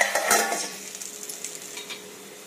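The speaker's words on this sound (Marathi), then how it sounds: "बघा झाकण लावतो" A lid goes onto a pan of kolim fish as it cooks, landing with a short clank near the start over a steady close sizzle that slowly softens.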